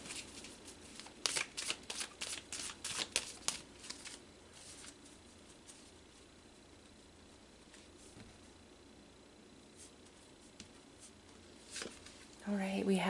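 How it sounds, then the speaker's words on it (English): Tarot cards being shuffled by hand in bursts of rapid riffling and flicking, loudest in the first five seconds, then a quiet stretch with occasional soft card sounds before a louder handling noise at the end. "So let's pull some tarot and go a bit deeper"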